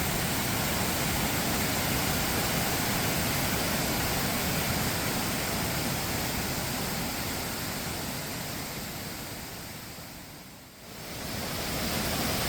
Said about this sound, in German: Die Wasserfälle gehen hier in mehreren Kaskaden nach unten.